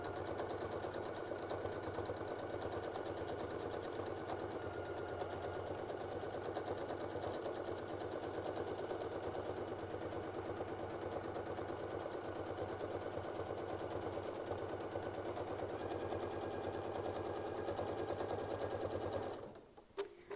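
A sewing machine stitches a quilt in a steady, close, continuous whir that runs almost twenty seconds without a break, then cuts off abruptly near the end.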